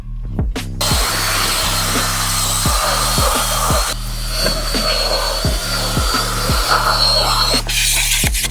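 A power drill fitted for detailing the interior of a Chrysler 300 whirs steadily, its motor drone rising and dipping in repeated surges as it works, loud and close with no talking.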